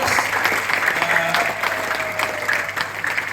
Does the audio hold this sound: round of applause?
yes